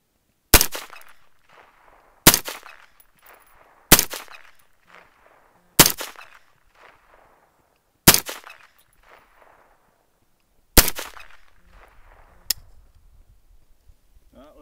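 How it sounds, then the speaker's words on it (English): A Ruger 10/22 Magnum rifle firing .22 Magnum ammunition outdoors: six sharp, loud single shots, each with a short decaying tail, spaced about two to three seconds apart, then faint clatter near the end. "We're trying some new ammo in the 22 Magnum, Ruger 10/22 Magnum."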